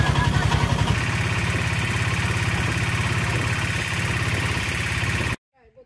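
A steady mid-pitched boat engine drones loudly and continuously on a lake near Rangamati as the boat arrives, holding at an even level before cutting off abruptly near the end.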